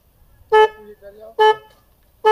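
Homemade bike built from scrap parts sets off its anti-theft alarm when lifted off its stand: three loud, tonal, horn-like beeps at a steady interval, with faint murmuring between them.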